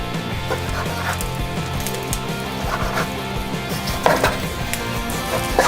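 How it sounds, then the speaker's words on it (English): Knife cutting raw chicken breast on a cutting board while cooking chicken with string beans, a series of close, irregular thumps and taps of the blade against the board. "Now let's cut up the chicken breast."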